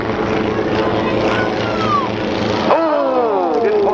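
A Turbulent Team aerobatic propeller plane flies at the Dunsfold Wings & Wheels air show in 2014, its steady engine drone rising and falling in pitch as it passes, with crowd commentary talking over it.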